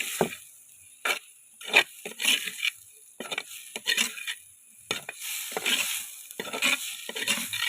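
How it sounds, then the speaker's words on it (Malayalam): Natthal fish roast being stirred and tossed in a frying pan, a spatula scraping and clinking in quick irregular strokes over a soft sizzle, close up with no talking. "നല്ലൊന്ന് മിക്സാക്കി കൊടുക്കുക"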